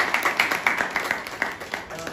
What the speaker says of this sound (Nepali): उहाँलाई एकचोटि स्वागत गरौँ ताली बजाएर